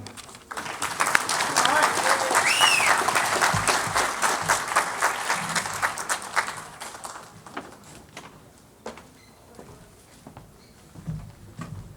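An audience applauds to welcome speaker Jasdip Singh at a Muslims of America event: loud, sustained clapping from a crowd that thins into scattered claps.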